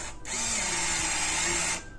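A power drill bores steadily into a door while a fingerprint lock is being installed, one loud continuous whine lasting about a second and a half, close up and alone.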